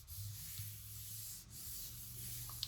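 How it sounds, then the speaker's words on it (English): Designer series paper on a slimline card being burnished by hand: a close, quiet, continuous rubbing and scraping across the paper, with a tiny tap near the end. "I'm just going to turn that over and give that a nice little burnish."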